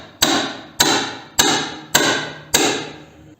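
Five firm hammer blows on a hand impact driver used to work a motorcycle inspection plate screw, evenly spaced about half a second apart, close, crisp metallic hits with short ringing decay.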